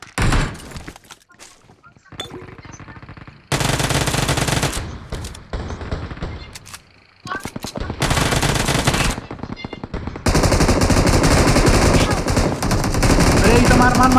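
Bursts of automatic gunfire ring out in a shooting video game, several loud rapid volleys separated by quieter gaps, with players talking between them.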